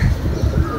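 A pigeon coos in a low, throaty burble, loud and close, filling the short moment with no talking over it.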